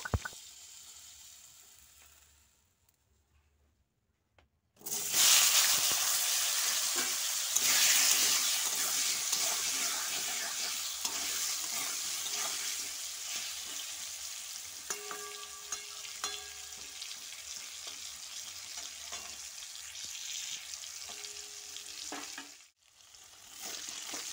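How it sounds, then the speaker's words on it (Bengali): Potato pieces sizzle steadily in hot oil for chicken curry, with a continuous close frying hiss and occasional scrape of stirring, starting after a few seconds of near silence and briefly dipping near the end. "এবার ভালো করে নেড়ে নেবো, দিয়ে আলু দিয়ে দেবো।"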